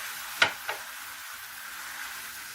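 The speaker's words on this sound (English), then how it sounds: "Give that a really good stir before adding in the rice." Garlic, parsley and seasonings sizzle faintly as they are stirred in a pan with shredded beef, with two soft utensil scrapes early on and a steady low frying hiss after.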